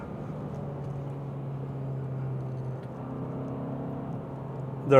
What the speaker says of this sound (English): So we can hit this little back road here and push it through some of these corners.